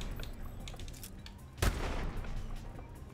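A single sharp sniper rifle shot cracks out in an Advanced Warfare multiplayer match, one loud burst in the middle of a steady game background hum, with a player talking quietly nearby.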